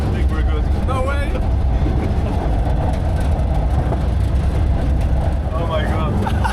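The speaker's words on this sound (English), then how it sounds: "We're on a train, man!" Steady low rumble of a moving train on the way into Mongolia, constant rolling rail and carriage noise filling the whole stretch, with voices talking over it.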